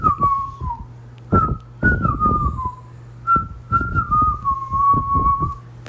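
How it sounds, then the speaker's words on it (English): A person whistles a tune up close in short wavering phrases with brief gaps between them, loud and clear with no talking. "I can whistle."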